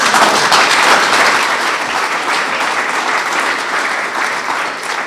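Sustained applause from an audience of about 150 to 200 people at an Israel Independence Day commemoration, dense and steady throughout, slowly easing a little in loudness toward the end.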